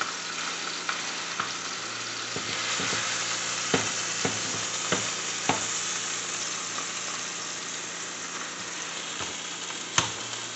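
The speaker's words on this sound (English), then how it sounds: "I'm just going to brown this on each side, give it a good sear" Steady, dense sizzle of a beef roast studded with thin garlic slivers searing in a hot pan, a constant frying hiss with occasional soft pops and clicks, close and alone without voices.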